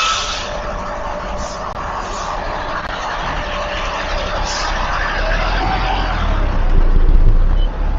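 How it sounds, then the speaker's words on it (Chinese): A large truck maneuvers through a U-turn on a narrow road, its engine a steady low rumble that swells slightly toward the end, heard close against broad traffic and wind noise. "这么小的道路上，这种大货车掉个头也不容易"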